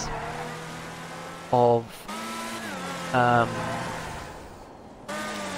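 A Deveste Eight supercar driven in GTA Online gives two short, loud bursts of engine revving between steadier motor drone, with someone talking over it.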